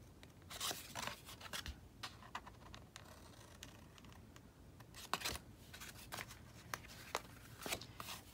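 Scissors snip repeatedly through a junk journal page, a quick series of close, crisp cuts with soft paper rustling between them.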